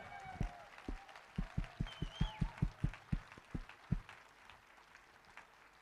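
An audience at the Iron Sky film premiere in Helsinki claps in a fast, even rhythm, about a dozen crisp beats that then taper off.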